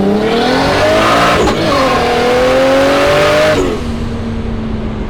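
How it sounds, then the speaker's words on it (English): A JZ-engined Nissan S13 coupe on a test drive pulls away hard, its engine rising loud and close, then dropping and climbing again through two gear changes before easing off. "we're gonna take it for a quick test drive before we load it up"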